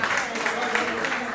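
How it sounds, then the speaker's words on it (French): Dense applause from a crowd at an album launch presentation, steady clapping throughout with a murmur of voices mixed in. "Est-ce qu'on peut l'applaudir très fort s'il vous plaît?"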